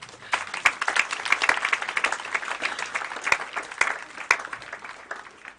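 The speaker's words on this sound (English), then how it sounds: "Let's clap for him." A congregation at a thanksgiving Mass applauds, dense sustained clapping from many hands with a few sharper individual claps standing out, continuing steadily before slowly tapering.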